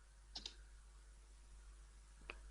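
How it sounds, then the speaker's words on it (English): A few quiet clicks on a computer keyboard: two quick taps close together, a pause, then one more, over a steady low hum. "So I'm typing"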